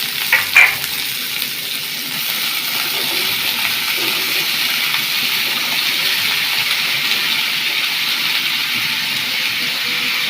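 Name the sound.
yardlong beans frying with chopped onion in a pan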